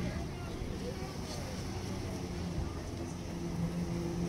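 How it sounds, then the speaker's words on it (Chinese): A yacht heads out to sea, its engine giving a steady low rumble with wash and wind noise over the water, holding an even, continuous level throughout. "游艇出发了"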